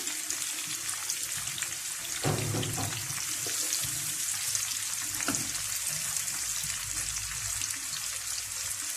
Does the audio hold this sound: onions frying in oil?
yes